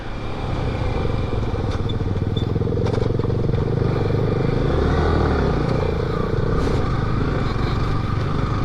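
A new motorcycle engine runs steadily at close range while riding from Mariani toward Mokokchung, with a constant buzzing drone and some rattling over the road.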